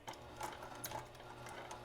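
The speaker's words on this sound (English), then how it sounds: "I'm gonna do a forward stitch, back stitch, and then we are good to go." Sewing machine running a forward stitch and then a back stitch on a minky baby tag blanket, a quiet rapid mechanical whirring and ticking heard close up with no talking.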